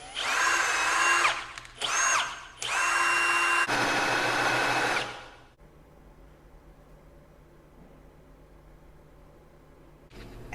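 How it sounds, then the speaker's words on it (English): A power drill bores a center hole in a wooden piece, several loud whining bursts with short pauses between them, then the motor stops and near-silence follows before a brief final burst. "And take your drill bit and drill right here in the center."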